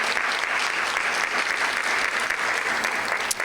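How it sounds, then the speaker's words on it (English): A graduation ceremony audience claps in a dense, even burst of applause that holds steady and loud from start to finish. "Let's give them a round of another applause,"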